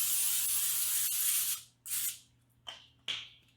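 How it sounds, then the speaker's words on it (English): An aerosol can of cooking spray sprays onto a foil-lined tray in a long steady hiss, then three shorter bursts, close up. "take your cooking spray and just kind of do a light coat"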